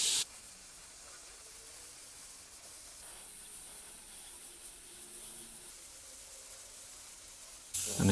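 An airbrush sprays white paint thinned with reducer at low air pressure, giving a steady, soft hiss that holds evenly and close with small fluctuations, stopping near the end.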